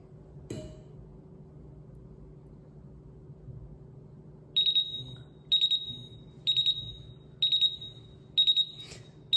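An MGT Senko portable gas detector goes into alarm after calibration gas is applied through its integrated cap, giving five loud, evenly spaced bursts of rapid high-pitched beeping over a low steady hum.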